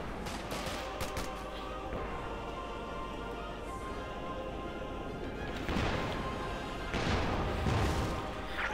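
Heavy automatic gunfire from a .50 caliber machine gun in the Company of Heroes 2 battle game, dense bursts of shots with crashing impacts and explosions, loud and sustained throughout.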